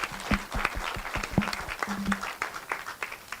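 Audience clapping at a national learning convening in Kenya, a steady patter of many hands from a moderately distant crowd, fairly soft and continuous without talk.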